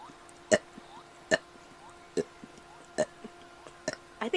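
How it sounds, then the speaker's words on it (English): A run of seven burps comes one after another at a steady pace, each a short, close, moderately loud belch with brief quiet gaps between them and no talking. "Okay, 7 burps."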